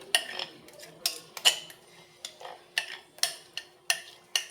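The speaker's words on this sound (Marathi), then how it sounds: "त्या भांड्यामध्ये लगोलग आपल्याला हे बॅटर ट्रान्सफर करून घ्यायचं आहे" A spoon scrapes and taps against metal vessels while singhara flour dhokla batter is moved into a pot greased with ghee. A dozen or so close, bright clinks come in a loose rhythm, with no speech.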